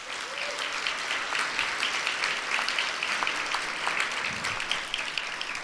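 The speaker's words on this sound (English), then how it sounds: "A round of applause" An audience at a scholarship reception applauds the Jonathan Smith Trio. The clapping is full and sustained, with individual claps standing out across a steady crowd roar.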